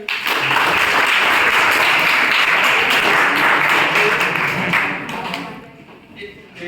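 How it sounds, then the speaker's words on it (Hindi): Dense, sustained applause from a crowd, loud and steady for several seconds before tapering off toward the end. "तालियां बजाएं इसके लिए"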